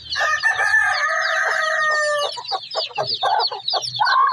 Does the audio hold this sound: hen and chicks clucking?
yes